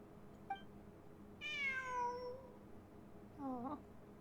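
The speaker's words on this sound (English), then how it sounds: "It really is a cat." A cat in the Genshin Impact video game lets out a faint chirp, then a long drawn-out meow and a shorter one after a pause, all quiet against a low ambient hum with no talking.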